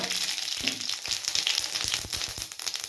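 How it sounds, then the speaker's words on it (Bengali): Cumin seeds sizzle in hot oil in a pan, a soft, close hiss with quick popping crackles and small spits scattered throughout, fairly quiet and without speech. "তো কড়াইতে তেল দিয়ে দিছি, এবার দিয়ে দেবো জিরা"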